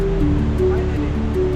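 A steady, loud rush of water pours at Nanemachi Waterfall, close by, with a continuous roar and no break through the whole stretch.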